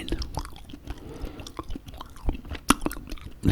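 Gum chewed right up close in an ASMR setting, steady wet smacking and squishing with sharper clicks, no talk.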